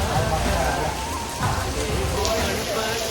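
Heavy rain falls steadily during a Ganesh festival outing, a constant broadband wash close by with people talking over it.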